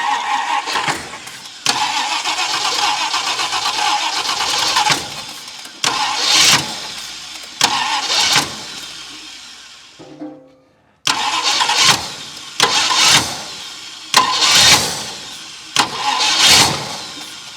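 A 1966 Ford wagon pulled from abandonment cranks repeatedly in loud bursts, the engine churning and catching briefly between pauses, with a short silence midway before more attempts.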